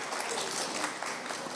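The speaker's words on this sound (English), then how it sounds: "a huge round of applause" A crowd claps steadily in a dense, even wash of applause, with no voices.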